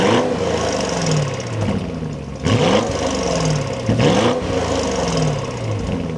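An Audi SQ7 SUV engine running and revving, rising whine repeated a few times over a steady rumble, close by with no talking.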